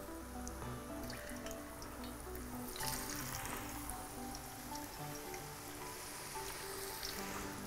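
Potatoes sizzling and crackling steadily in hot frying oil as the remaining pieces go into the pan, a continuous close bubbling hiss with a brief louder burst partway through.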